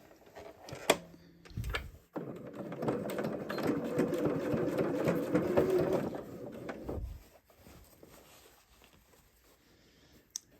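Sewing machine stitching a straight seam, a close, steady whirring run of about five seconds between a few clicks and handling knocks.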